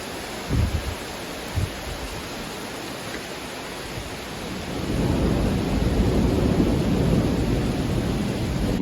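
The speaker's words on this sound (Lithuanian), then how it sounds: "užėjo baisiai lietus toks didelis, biškai iš pradžių krapijo, bet dabar tik apsirengiam išeit ir papliupo čia su žaibais" Heavy downpour of rain with thunder and lightning during a storm, starting with a couple of dull thuds before a dense, steady roar of rainfall swells up and fills the rest of the scene.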